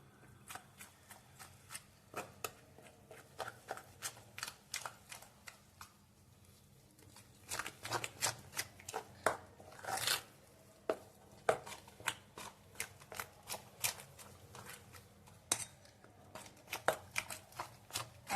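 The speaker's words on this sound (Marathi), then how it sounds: "हे मिश्रण चांगलं फेटून घ्यायचं आहे" Dhokla batter of gram flour, powdered sugar and water being beaten in a bowl, quick uneven bursts of soft tapping and scraping strokes, close and faint, with short pauses between rounds.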